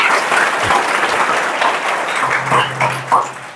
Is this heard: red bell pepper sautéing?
no